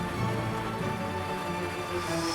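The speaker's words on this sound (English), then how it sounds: "the rain hitting the roof of the greenhouse, this is really relaxing" Steady rain drums on a greenhouse roof in a dense, even patter that fills the whole stretch without pause, close and moderately loud, with no voices.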